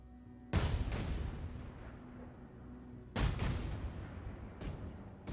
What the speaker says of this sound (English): But then I get the explosion here and here.